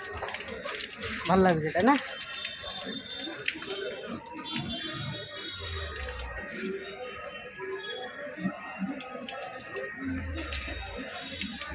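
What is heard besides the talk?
water running from an opened tap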